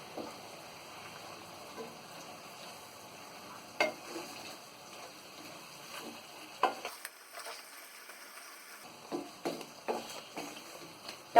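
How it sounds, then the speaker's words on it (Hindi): Tomatoes go into mutton parche frying in a pan, a faint steady sizzle broken by scattered stirring scrapes and clinks that grow busier toward the end, with no talking. "अब हम इसमें टमाटर डालेंगे।"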